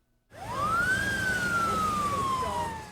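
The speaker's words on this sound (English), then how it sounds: "From sirens to flashing lights" A Torrance police car siren wails, rising and then slowly falling in a long sweep, loud and close over road noise, while escorting a Special Olympics torch run.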